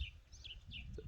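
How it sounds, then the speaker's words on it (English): Small birds chirp faintly in the background, a few short high tweets spaced across a quiet outdoor-sounding backdrop, with no talk over them. "birds in the background"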